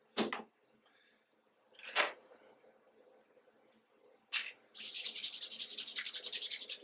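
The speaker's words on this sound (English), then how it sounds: "I'll work the product into my skin and then add a tiny little bit of water." Foaming facial cleanser rubbed into skin with the hands during a men's nightly skincare routine: two short scrubbing bursts, then a steady run of close, soft, rhythmic rubbing strokes.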